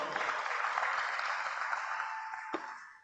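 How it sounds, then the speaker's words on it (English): A crowd at a Caritas Ghana economic recovery campaign event claps steadily to welcome Mr. Akwa, a dense even patter of applause at moderate distance that fades slightly at the end. "let's welcome Mr. Akwa with a round of applause"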